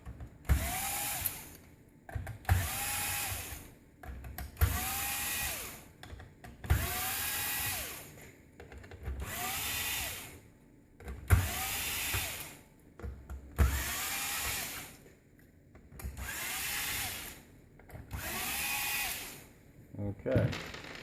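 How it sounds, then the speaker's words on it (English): Powered screwdriver or drill backing screws out of a panel on a Ricoh MPC color copier, with about eight short whirring bursts in a steady rhythm, each lasting around a second and separated by brief pauses, close and moderately loud. "And then we'll just pull the screws."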